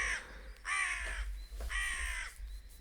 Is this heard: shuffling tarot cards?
no